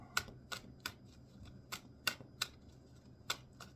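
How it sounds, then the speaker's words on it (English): Crisp, quiet tarot-card-shuffling riffles repeat in short bursts at a fairly regular pace, close by against a soft background hum. "A couple more shuffles."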